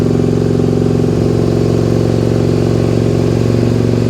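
A Suzuki SV650S motorcycle engine runs loud and steady near the listener, a continuous rough, pulsing drone that sounds a little uneven, as if firing on one cylinder, above idle with the choke on.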